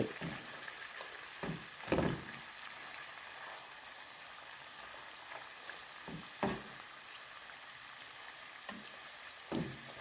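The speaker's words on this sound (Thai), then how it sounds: "ใส่หมูลงไปเลยค่ะก็จะลวนหมูนะคะ จะลวนหมูไปเรื่อย" Pork stir-fried with curry paste in a pan for a Thai eggplant dish gives a soft, steady sizzle, with a few sharper scraping stirs of the spatula against the pan at intervals.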